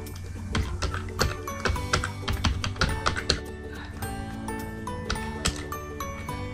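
Quick, uneven taps of someone typing a job search on a computer keyboard sound close, layered over steady background music with sustained tones.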